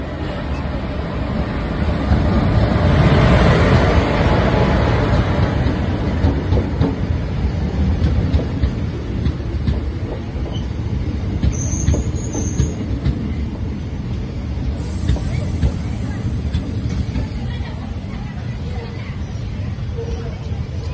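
Tambaram–Sengottai Super Fast Express running on rails, a steady loud rumble of wheels and carriages with faint clatter and brief squeals, continuous throughout with some background voices.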